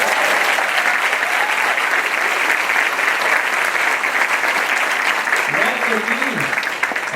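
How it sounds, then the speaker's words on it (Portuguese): Continuous audience applause at a coaching seminar fills the whole stretch, steady and dense, with a voice briefly cutting through near the end. "esse aqui é o Edson, uma salva de palmas"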